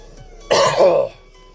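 A single harsh, throaty cough from someone with a week-long cough bursts out close and loud, then fades into quiet.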